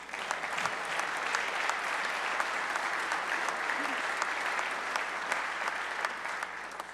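Steady, dense audience applause fills the chamber during a governor's State of the State address in Indiana, sustained and even for several seconds without a break.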